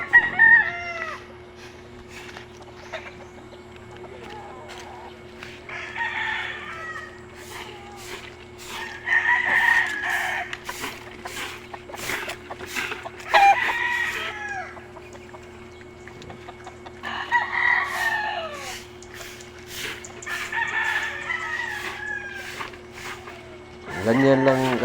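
Chickens and roosters in a small backyard gamefowl farm, repeated rooster crows and clucking at moderate distance over a steady low hum, with a person talking at times.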